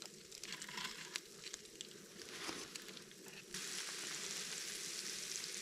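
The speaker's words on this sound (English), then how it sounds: "I can't tell if it's my sausage sizzling or Nick's bacon sizzling over there." Sausage and bacon frying in a pan at a winter campsite: a faint, soft sizzle with scattered pops and crackles, quiet and low in level, becoming a steadier hiss toward the end.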